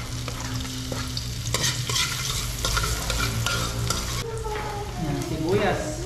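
Garlic stir-fried in a pan for laing, a loud close sizzle with busy scraping of a spatula against the pan, the frying hiss continuous throughout.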